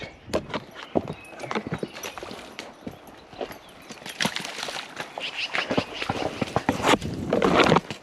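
A horse's hooves clip-clop in a steady trotting rhythm on hard ground as it leaves a barn, fairly close, with some rustling and creaking in between.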